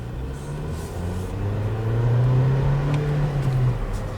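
A Hyundai HB20 with a 1.6 16-valve engine drives through the city, its engine humming low and steady and rising gently in pitch as it pulls, close and continuous with no talk.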